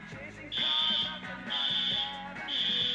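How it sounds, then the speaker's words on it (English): A fire alarm sounds in repeated shrill electronic beeps, each lasting about half a second, loud and close, with speech underneath. "What was that? The fire alarm."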